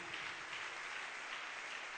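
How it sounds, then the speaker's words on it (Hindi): Audience at a motivational talk clapping excitedly: dense, steady applause from many hands, moderately distant and continuous throughout, with no talking over it. "कुछ लोग बड़े एक्साइटेड होकर ताली बजा रहे हैं"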